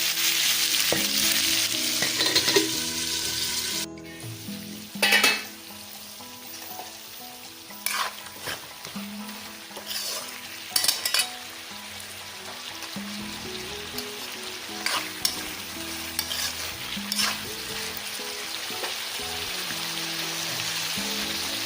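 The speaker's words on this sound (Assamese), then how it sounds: "এইখিনি পানী নিদিয়াকৈ লৰাই লৰাই ভাজি থাকিম।" Chicken frying with potatoes and onions in a pan, with no water added, makes a loud continuous sizzle, and a spatula scrapes and knocks through it at irregular intervals while the mixture is stirred.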